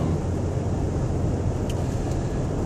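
A car drives down the road, producing a steady broadband road and engine roar heard from inside the cabin, constant in level with no other sounds standing out.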